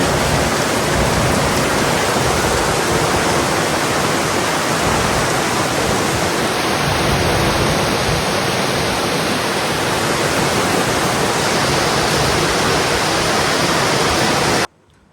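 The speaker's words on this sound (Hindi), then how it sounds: "भाई बहुत अच्छी बारिश हो रही है" Heavy rain pours steadily and loudly, a dense unbroken hiss that continues for many seconds before cutting off abruptly.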